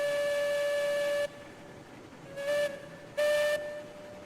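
A steam locomotive whistle in the game Railroads Online sounds as one long, steady chord, then two shorter blasts after a pause, loud and clear with quiet rumble between them.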